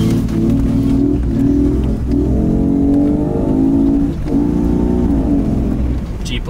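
Steady low rumble of a Jeep's 4.0-liter inline six-cylinder engine while cruising, a smooth continuous drone with slight rises and dips in pitch, loud and close throughout with no voices.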